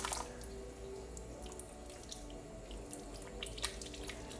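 Tap water runs steadily into a sink during handwashing, a faint, even wash of splashing with small drips scattered through it and no talking.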